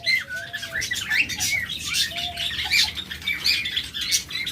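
Pet budgerigars and lovebirds in a bird shop give sharp, repeated squawks and chirps, close and lively, overlapping in quick bursts across the whole stretch.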